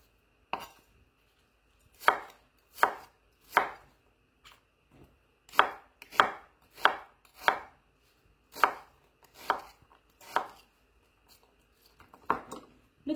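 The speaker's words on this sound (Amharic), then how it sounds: "ሽንኩርታችንን ካጠብን በኋላ ተለቅ አድርገን ነው የምንከትፈው" Knife chopping onions coarsely on a cutting board: about a dozen crisp, distinct strokes in an uneven rhythm, close and clear with no talking.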